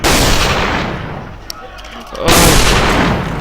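Loud bursts of gunfire in the video game AVA, a dense crackling barrage that pauses briefly mid-clip, with a single sharp shot in the lull, then resumes at full strength.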